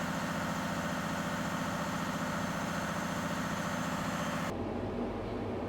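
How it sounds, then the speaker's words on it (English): A CAT 330 excavator engine runs at full throttle, a steady loud droning rumble heard from inside the cab, ending abruptly in a lower hum. "That's full throttle."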